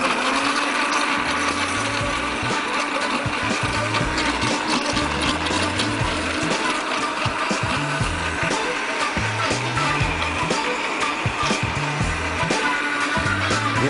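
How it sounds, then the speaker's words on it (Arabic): A kitchen blender runs continuously while blending triangle processed cheese with starch for homemade cream cheese. It gives a loud, steady whirring motor drone with a faint rattly mechanical texture that never lets up. "الجبنه المثلثات هشغلها او هحطها وهو الخلاط شغال"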